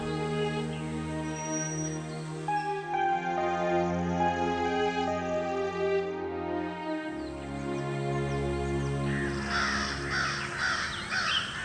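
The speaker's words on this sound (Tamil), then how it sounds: "வீட்டு பக்கத்துல இருக்கிற மரக்கிளைகள்ல வழக்கம் போல வந்து இறங்கின காக்காங்களோட கூட்டம்" Cartoon crows caw repeatedly in a lively, rhythmic series over a steady musical bed, the calls close and prominent throughout a scene of a flock settling on tree branches beside a grandmother's house.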